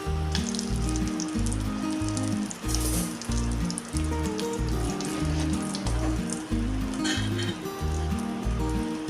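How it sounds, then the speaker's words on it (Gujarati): Stuffed chillies, bharela marcha, sizzle in frying oil, a continuous crackling hiss heard under a repeating low musical backing. "હવે આપણા સરસ રીતે તેલમાં ફ્રાય થઈ ગયા છે"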